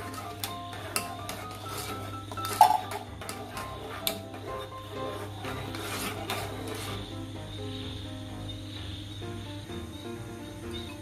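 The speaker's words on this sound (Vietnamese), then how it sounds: "Mình khuấy đều đi." Hot milk with vanilla being stirred in a pot, a soft, steady scraping and rubbing of the utensil against the pan with light clinks, close by and fairly quiet, no talking.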